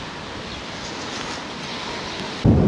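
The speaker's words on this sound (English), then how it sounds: "it's so windy now" Strong wind roars steadily across an open space in Kalmykia, Russia, a broad rushing noise with buffeting on the microphone, ending in a sudden heavy gust thump.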